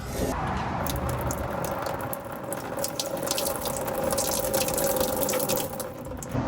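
Dirty old water pours steadily out of a 1953 Needlenose Peterbilt truck left parked for 40 years, a constant close splashing rush with light dripping textures, no talk.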